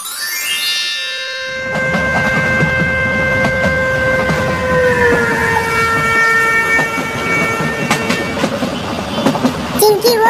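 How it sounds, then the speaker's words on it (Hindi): A passenger train moving along with rumbling wheel noise, starting quietly and then running steadily, with a sustained tonal whistle-like line and a few jingling clicks near the end. "चिंटू बेटा चलती हुई ट्रेन से बाहर हाथ नहीं निकालना चाहिए"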